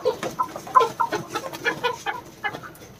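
Black chickens at a market give a run of close, repeated clucks in an uneven rhythm, fairly quiet, with no voices over them.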